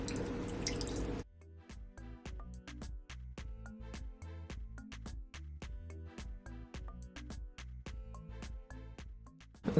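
Juice poured out of a coconut, first as a brief rushing stream, then as a run of distinct, fairly regular drips plopping close by, with no talk.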